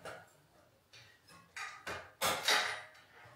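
A hammer drives nails into a metal joist hanger during a house renovation: a series of sharp, separate strikes that grow louder and closer together, about seven hits in three seconds, with the final blows strongest.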